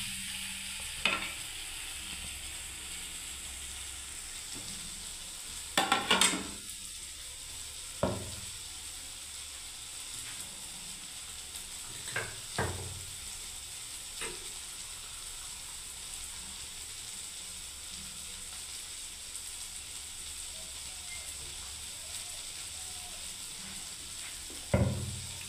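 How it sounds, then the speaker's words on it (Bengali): Onion, garlic, dried red chilli and cumin sizzle in hot oil at a steady, moderate hiss, broken by a few sharp clinks and scrapes of a spatula stirring the pan. "পেঁয়াজ রসুন শুকনো লঙ্কা জিরে বন্ধুরা দেখুন সব ভাজা ভালোভাবে খুব সুন্দরভাবে হয়ে গেল"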